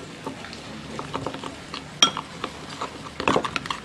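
Small clinks and scrapes of a utensil against a dish as wasabi powder is mixed into sauce, close and fairly quiet, with irregular taps and one sharper clink.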